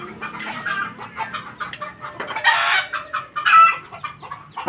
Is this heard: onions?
no